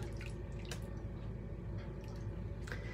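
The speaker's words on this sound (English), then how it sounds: "I'm gonna want to rinse my brush" A shaving brush being rinsed in water, with irregular drips and soft squishy splashes over a steady running-water hiss, close and alone without talk.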